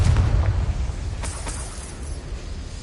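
Confringo blasting spell going off in the Hogwarts Legacy video game, a heavy low boom at the start that rumbles and fades, with a couple of sharp crackling bursts following soon after.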